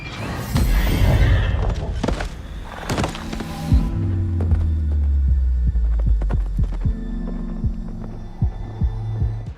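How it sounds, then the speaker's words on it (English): Torrent, the Spectral Steed horse from the video game Elden Ring, gives a loud whinny over a deep throbbing hum, followed by low sustained tones and scattered sharp hoof-like clicks. "This is your new horse, named Torrent, which you'll be able to summon to your side whenever you like"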